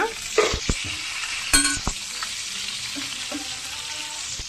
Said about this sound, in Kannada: ಎಣ್ಣೆಲೆಲ್ಲ ಚೆನ್ನಾಗಿ ಫ್ರೈ ಆಗಿದೆ.